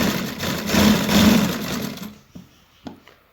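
A sewing machine stitches a straight seam along the edge of a baby kurta in a close, steady whirring run. It stops after about two seconds and a few faint handling clicks follow.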